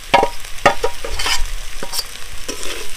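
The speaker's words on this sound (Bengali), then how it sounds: "শুকনো লঙ্কাটা ভেজে নেবো" Dried red chillies fry in hot oil with a loud, close crackle, while several quick scraping stirs and a few clinks sound against the pan over a short stretch, with no voices.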